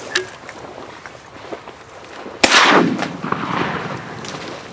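A single loud shotgun blast fired at a mallard on a duck hunt cracks out midway, followed by a long rumbling echo that rolls across open water and wind.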